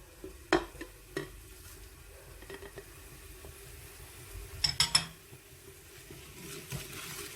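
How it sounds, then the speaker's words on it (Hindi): Ground spices including red chilli, garam masala and dried coriander are tossed into a pan of frying green mung lentils, with a quiet sizzle broken by a few sharp spoon clinks and stirring scrapes. "ये सारे मसाले अब हम इसमें डाल देंगे।"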